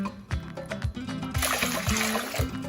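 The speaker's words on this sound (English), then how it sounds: "For the tea part of bubble tea, you're gonna need 2 cups of hot water." Two cups of hot water are poured for bubble tea, a steady close splashing trickle with rhythmic low knocks underneath, no talking.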